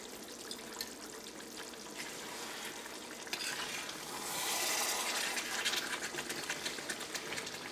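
Kadhai chicken curry stirred in a hot pan: quiet hissing bubbling with soft, rhythmic scraping strokes that swell briefly midway.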